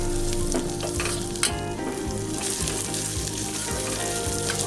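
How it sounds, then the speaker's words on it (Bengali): Onions frying in a hot pan for chilli paneer give a loud, steady, dense sizzle with occasional stirring scrapes. No one speaks. "এরপর আমি দিয়ে দেবো পেঁয়াজ। এটা আমি 1 মিনিটের মতন ভাজবো।"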